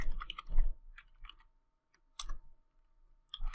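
Someone types a console command on a computer keyboard: quick bursts of close key clicks, a pause with a lone tap, then more clustered keystrokes.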